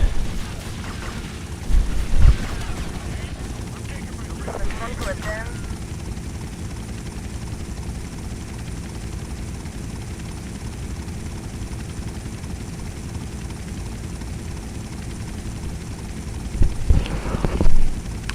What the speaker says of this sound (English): I said friggin' hunter choppers after you